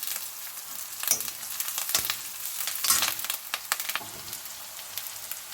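Green chillies sizzle in hot oil for a spicy egg curry. A steady close crackle and hiss is broken by sharp spatters and stirring scrapes, with no voices.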